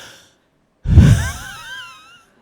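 A man imitates heavy, labored breathing with one long, loud, rasping exhale that starts abruptly after a moment of silence and trails off.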